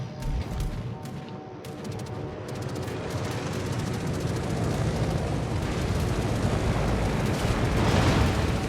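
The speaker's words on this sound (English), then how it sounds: "It's a broadside shot on the Megami, but he's just out of range." A battleship's broadside salvo booms in a World of Warships naval battle: dense, rumbling gunfire and explosions layered into a continuous loud roar that swells toward the end.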